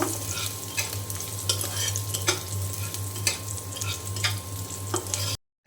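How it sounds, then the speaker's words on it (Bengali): Onions frying in a pan for mutton pulao, giving a steady close sizzle with a low constant hum underneath and intermittent scrapes of stirring throughout. "পেঁয়াজটা এখন একটু ভালো করে ভেজে নেব"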